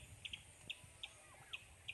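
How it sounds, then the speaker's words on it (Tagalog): Farm turkeys give six short, high-pitched peeps spaced irregularly over quiet background noise. The calls sound faint to moderate. "Okay, so yan yung mga pabo namin."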